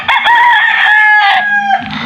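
A rooster crows loudly and close by, one long strained call that wavers and trails off, with no talking.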